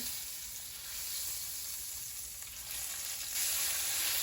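Butter and olive oil sizzle steadily in a large pan, a close, continuous bright hiss that swells slightly near the end, with no talking over it.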